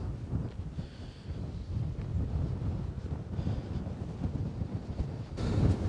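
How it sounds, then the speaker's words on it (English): Strong wind at Capulin Volcano National Monument roars and buffets the microphone continuously, a heavy low rumble with gusts swelling throughout and growing louder at the end. "windy as heck down here. That wind is kicking."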